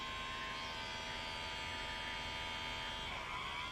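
Microdermabrasion device with suction working on the nose, giving a steady electric buzz and hum that stays even and close throughout, with a slight shift near the end.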